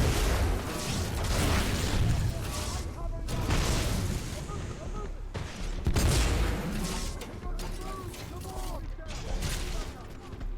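Explosions and heavy gunfire in the shooter game Titanfall 2, repeated booming bursts with rumbling bass and crackling debris, several loud blasts across the stretch under a voice talking.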